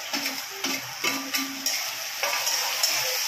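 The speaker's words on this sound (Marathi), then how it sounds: "कांदा टमाटर चांगलं मस्त फ्राय करून घेऊया" Onion and tomato frying in a pan, a close, continuous sizzle with light stirring scrapes and clinks of a utensil against the pan.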